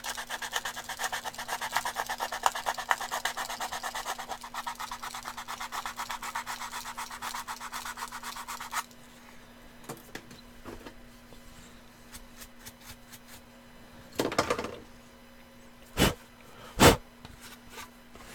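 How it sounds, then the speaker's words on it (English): Rough, rhythmic rubbing of sandpaper scrubbing back and forth over a surface, then it stops, leaving quiet handling noises and a few sharp knocks. "Hold on, I kind of missed some of the sanding here, and I kind of want to fix that."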